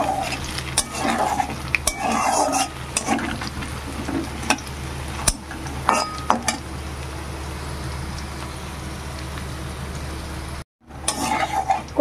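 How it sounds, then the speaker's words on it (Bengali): Taro chunks frying in hot oil in a pan for a mashed taro dish, giving a steady crackle with repeated stirring scrapes and clinks of a utensil on metal, and a brief silent gap near the end. "খুব সুন্দর করে তেলে ভেজে কচুগুলো সেদ্ধ করে নেব"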